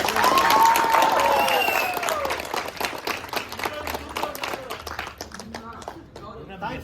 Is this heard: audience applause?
yes